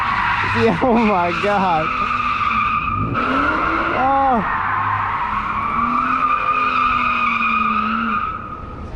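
Viper red Nissan 350Z doing donuts, tires skidding and squealing in long wavering howls over a loud engine, with excited voices exclaiming now and then.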